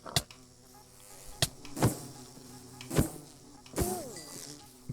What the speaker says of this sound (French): pourquoi il y a des abeilles qui me suivent